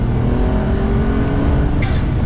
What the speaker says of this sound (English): Okay, so we're going to start off with a second gear pull.